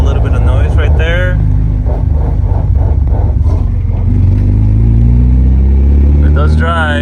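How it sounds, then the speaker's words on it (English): A 1993 Nissan 240SX on a road test after a major overhaul, its transmission whining from worn bearings, sounds as a steady engine and drivetrain drone under close talking throughout. "A little bit of transmission noise."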